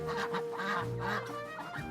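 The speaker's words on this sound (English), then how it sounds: "He and all the other ducks huddled together and quacked." A group of ducks huddled together quack in a soft, overlapping flurry of short calls that runs continuously without pause.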